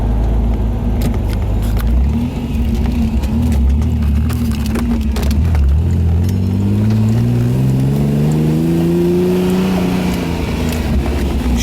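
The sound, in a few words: Ferrari Testarossa engine revving while shifting gears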